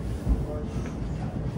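Steady low rumble inside a moving train travelling from Guildford, a continuous mid-level hum of carriage and track noise with no clear talk.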